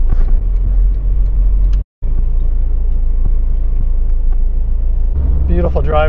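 Car rumbling steadily along a road through small villages and hamlets, a continuous engine and tyre drone with a brief cut, then a voice briefly over the noise near the end.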